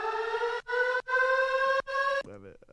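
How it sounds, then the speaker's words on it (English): Synthetic siren tone in a trap music drop, sounding as several sustained wailing bursts separated by short gaps and ending in a brief distorted swirl, loud and alone with no talk. "And then a siren in the back."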